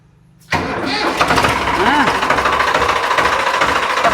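After a moment of quiet, a brand-new tractor engine cranks and catches, then settles into a loud, steady diesel rumble close by.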